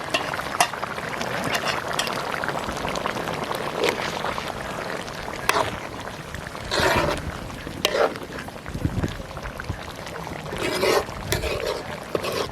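Jaffna-style cuttlefish curry cooks in a pan with a constant sizzle and bubbling, while scraping stirs and clattering knocks come and go over the top.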